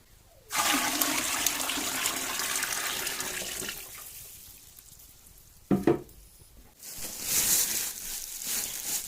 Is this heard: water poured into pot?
yes